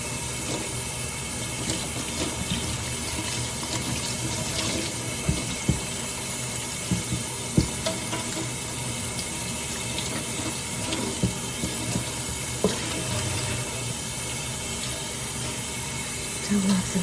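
Tap water runs steadily while a doll's head is rinsed during an American Girl doll spa wash, a constant close hiss of flowing water with small splashes and knocks throughout.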